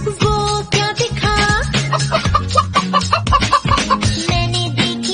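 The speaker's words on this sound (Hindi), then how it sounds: "मैंने देखी मुर्गी," A hen clucks in a quick run of short, pulsing clucks partway through a Hindi nursery rhyme, mixed in with upbeat children's music.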